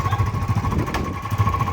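A Farmtrac 60 tractor's diesel engine runs close by with a steady, loud low chugging rhythm that holds for the whole stretch, without a clear start-up surge.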